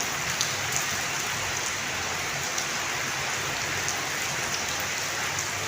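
Steady, even rainfall hisses without pause, a dense wash of drops pattering on a surface, with no voices.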